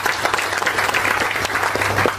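An audience at a farmers' rights meeting applauds loudly and steadily, a thick continuous roar of many hands clapping with no speech over it.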